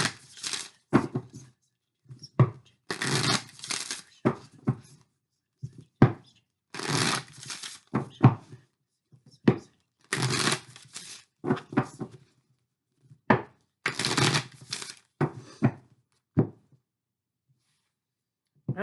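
A Moonology oracle card deck is shuffled close by in repeated bursts of papery riffling and flicking, separated by short quiet pauses.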